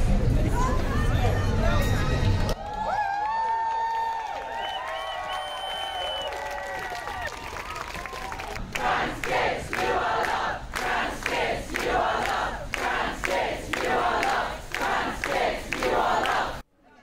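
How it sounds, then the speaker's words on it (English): A crowd of trans supporters and allies cheering and shouting outdoors, loud massed voices and yells rising in repeated bursts, preceded by a stretch of scattered chatter. "the kids came down, greeted by a crowd of trans supporters and allies."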